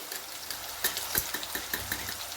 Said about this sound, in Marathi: इथे बघू शकता 2 मिनटं असं छान परतून घ्यायचं